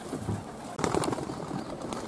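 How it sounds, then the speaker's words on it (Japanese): Pigeons take off from a loft on a sunny, lightly breezy day, with a burst of wing flapping and soft cooing calls amid outdoor background noise. "飛び始めたハトたちです。"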